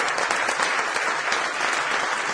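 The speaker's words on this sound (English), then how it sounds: "give a big round of applause to Jim Francis" Audience applause for Jim Francis at a seminar, a dense, steady wash of clapping from a crowd that holds at an even level throughout, with no voices over it.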